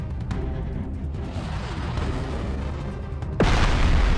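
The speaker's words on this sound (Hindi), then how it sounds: "दूसरी ओर पृथ्वी के भीतर से ज्वालामुखी लगातार फट रहे थे।" Volcanoes erupting as the early Earth forms, heard as a continuous loud rumbling roar that ends in a sudden heavy boom near the close, with no voices.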